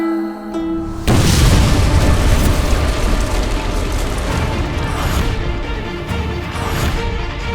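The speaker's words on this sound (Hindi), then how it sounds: "ये कैसा धमाका था? हम पर हमला तो नहीं हुआ?" An explosion sound effect in an Indian superhero TV episode hits suddenly as a loud, booming blast, then gives way to a sustained heavy roar with mechanical rattling.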